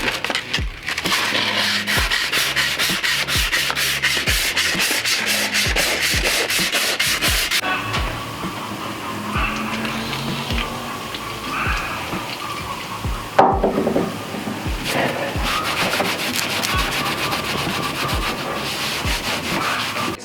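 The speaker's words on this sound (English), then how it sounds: "So I got a little bit of sandpaper. I'm gonna try to sand down this back piece. Clean up some of the rust here." Sandpaper scrubs rust off a metal back piece in quick, rhythmic back-and-forth strokes, close and loud, then slower, irregular rubbing with a brief scrape midway before steady strokes resume; no talking.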